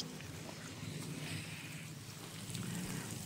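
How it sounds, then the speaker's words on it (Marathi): Light drizzling rain outdoors, a faint, even patter with a soft hiss that continues throughout, with no talking. "रिमझिम रिमझिम असा पाऊस झालेला आहे।"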